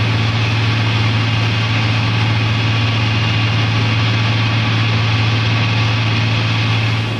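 Twin jet engines of an F-110 aircraft with afterburners roar in a steady, unbroken drone, loud and constant with a deep low hum running under a broad hiss throughout.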